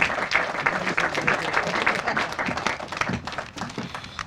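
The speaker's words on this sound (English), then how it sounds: "So please give a round of applause to our Highway Commissioner, Bob Kiley." Audience applause at an outdoor public works groundbreaking ceremony, a steady mid-level patter of many hands clapping that tapers slightly toward the end.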